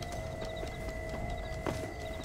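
A horse follows the player in the Red Dead Redemption Undead Nightmare video game, its hooves clip-clopping faintly in a quick rhythm over low game ambience, with no talking.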